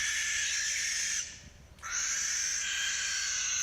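A harsh, raspy barn owl screech held for over a second, a brief break, then another long shriek, loud and close.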